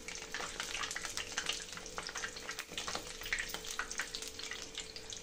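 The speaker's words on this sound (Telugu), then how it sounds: "వేసుకొని డీప్ ఫ్రై చేసుకోవాలి." Egg bajji batter deep frying in hot oil gives a continuous bubbling sizzle, close and fairly quiet, dotted with sharp crackles and pops throughout, with no voices.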